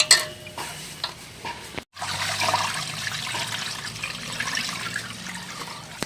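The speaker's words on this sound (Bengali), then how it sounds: "এখন জলটা ফেলে দেব।" Washed rice is drained of its water in a rural kitchen, producing a close, continuous pouring and trickling sound after a short handling clatter and a brief pause.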